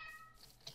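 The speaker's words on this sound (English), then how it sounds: "Oh, shut up, cat." A cat meows a few short times at close range, two brief calls near the end standing out over a quiet background.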